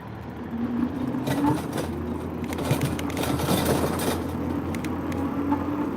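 Cars pass an e-bike rider on a road, a steady rumble of passing traffic and tire roar under wind noise, continuous and moderately loud throughout.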